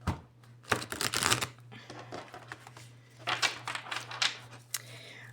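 Tarot cards shuffle softly close by in two short bursts of riffling and flicking, with a faint low hum in the background and quiet pauses between.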